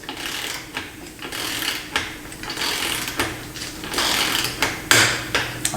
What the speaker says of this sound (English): you just keep tightening it until this one clicks.